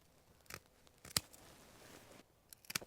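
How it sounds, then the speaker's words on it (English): Pruning shears snip a cane on a one-year-old bare-root rose, giving two quiet, sharp cuts about a second and a half apart in an otherwise hushed garden. "I'm going to cut this one maybe here"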